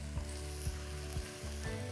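Celery and aromatics sizzle steadily in a hot pan for a lamb pot pie, with a few soft scrapes of stirring at regular intervals beneath the constant frying hiss; no voices.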